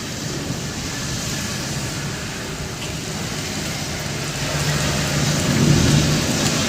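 Heavy, steady downpour in Raipur, a dense continuous hiss of rain that swells louder toward the end, with no voices.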